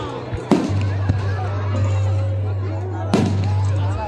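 Canada Day fireworks bursting outdoors, with two sharp loud bangs standing out over a steady low hum and crowd noise, and people talking and exclaiming throughout.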